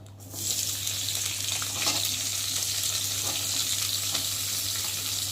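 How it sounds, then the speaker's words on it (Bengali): Chopped onions land in hot oil with a sudden surge of sizzling that then holds as a loud, steady frying hiss with light stirring scrapes, close and without voices over it. "আর এখন দেবো পেঁয়াজ কুচিয়ে রাখা, দেখতে পাচ্ছ পেঁয়াজগুলো এখন ঢেলে দেবো।"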